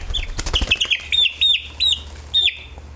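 Chickens, including Golden Comets, clucking and chirping in short, repeated bursts close by, with scattered bird calls and a low rumble underneath.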